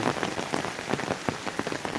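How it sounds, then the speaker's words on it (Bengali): Heavy rain pours steadily, a dense hiss of drops drumming on a surface with scattered louder splats, continuous and close, no voices. "প্রচুর বৃষ্টি"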